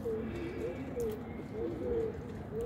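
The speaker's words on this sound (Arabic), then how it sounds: "ادي الحمام اهو" Pigeons coo softly in a loft, repeated throaty calls over a low background hum, with a voice speaking faintly nearby.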